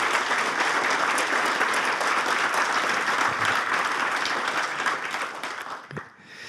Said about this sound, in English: So maybe we can really give him a loud applause so that they can hear it from out